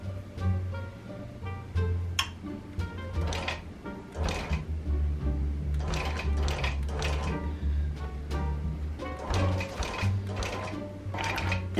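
A longarm quilting machine bastes fabric with a steady low motor hum and rhythmic mechanical stitching clatter in repeated bursts, heard close up with no speech.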